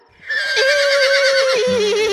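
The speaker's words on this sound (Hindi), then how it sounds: "घोड़ा" A horse gives one loud, close whinny that rises, wavers and holds for nearly two seconds before dropping into a lower, rougher tail.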